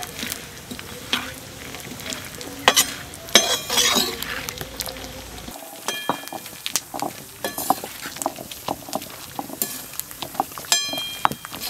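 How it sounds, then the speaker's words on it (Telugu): Peanuts roast in a pan, stirred with sharp clinks and scrapes over a steady sizzle, the rattling strokes repeating close up throughout. "పల్లీలు ఈ రకంగా దోరగా వేయించుకోవాలి."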